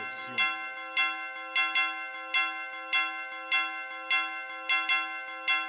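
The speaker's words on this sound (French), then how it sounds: "Les cloches annoncent l'arrivée du Messie." Church bells ring in an even, regular series of about a dozen clear metallic strikes, each with a long bright ring, ringing out without any talk over them.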